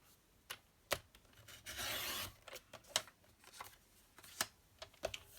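Paper being cut and handled for a daisy card craft project: sharp snips and rustles, one longer sliding swish, quiet and close.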